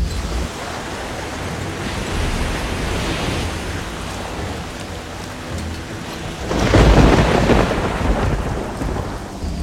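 A thunderstorm in the Risen 2 video game brings steady heavy rain and a deep, continuous rumble. Partway through, a loud roll of thunder swells up and then fades back into the downpour, and no one speaks.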